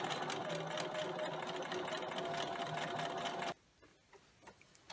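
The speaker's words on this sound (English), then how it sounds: "you do want to backstitch at the beginning and at the end" Sewing machine backstitching seams on a garden apron, a fast steady close whirring for about three and a half seconds that stops abruptly, leaving faint handling noises.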